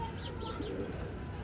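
Pigeons coo softly close by in a rooftop loft, low, throaty, rolling calls over a constant background hum, with no voices.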